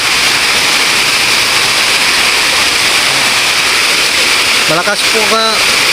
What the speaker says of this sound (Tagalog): Sa Tagalog falls ang tawag po dito sa tubig na yan. Galing po sa taas, babagsak po dito sa baba.